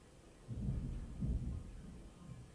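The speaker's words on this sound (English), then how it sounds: "I thought I heard someone like throwing something upstairs, but no, it's just thunder" Thunder rolling during a storm, low deep rumbles swelling twice over a steady background hiss, moderately distant and fairly quiet.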